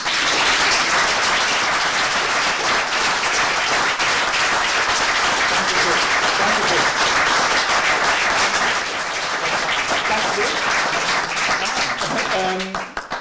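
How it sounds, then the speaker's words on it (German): Dense, sustained audience applause fills a lecture hall, loud and steady for most of the stretch before easing slightly, with a voice emerging near the end. "Einen herzlichen Applaus."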